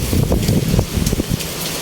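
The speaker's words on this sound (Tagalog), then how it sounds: "And malakas yung ulan." Heavy rain pours outdoors near a resort, making a dense, steady hiss with wind buffeting the microphone throughout a short, loud stretch.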